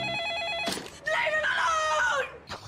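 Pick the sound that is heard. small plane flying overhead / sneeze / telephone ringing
telephone ringing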